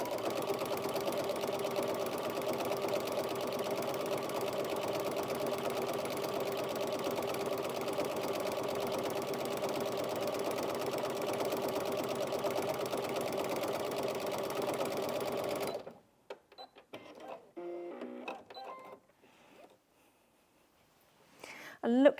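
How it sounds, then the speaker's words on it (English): A Brother Inventio NV1850Q sewing machine runs a stippling stitch in one steady, close whir for about fifteen seconds, then stops, leaving a few faint handling clicks and rustles. "there's a really nice stippling stitch on this machine"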